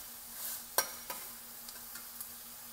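Sausage and vegetables sizzle softly in a pan over a quiet, steady frying hiss. A sharp scrape of stirring is followed by a few lighter clicks of the utensil against the pan.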